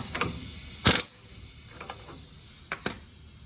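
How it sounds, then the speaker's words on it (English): Ratchet clicking while a hub bolt is tightened on a Toyota FJ Cruiser wheel hub assembly: a few short bursts of clicks, one louder near the start and a pair near the end, close by with quiet gaps between. "now I'm going to have to tighten it a little bit more."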